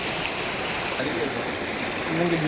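River water flowing steadily at Papanasam dam in the hills, a continuous broadband rush close by with faint voices murmuring underneath.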